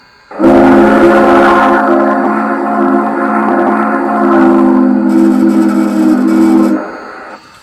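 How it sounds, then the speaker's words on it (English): A model LGB Aster Hudson steam locomotive with a Zimo sound decoder blows its long whistle: loud, steady, bright and chord-like for about six seconds, then cuts off abruptly. "F3 is a long whistle."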